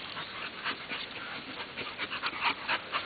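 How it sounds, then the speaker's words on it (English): A caged dog pants in quick, close bursts and lets out soft, high whimpers between breaths, alone and fairly quiet. "he's got a dog that's caged"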